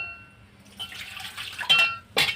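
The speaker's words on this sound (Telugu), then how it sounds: "ఇంకొన్ని వాటర్ యాడ్ చేసుకుని ఇందులో" Water poured into an Andhra-style tamarind fish curry (chepala pulusu) in a pot: a short, close splashing pour with a couple of sharper sloshes near the end, and no talking.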